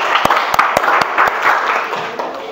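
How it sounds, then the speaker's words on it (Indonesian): Students in a classroom clap together, a close burst of uneven hand claps with a few sharp distinct slaps over a couple of seconds, with faint voices mixed in. "Boleh tepuk tangan."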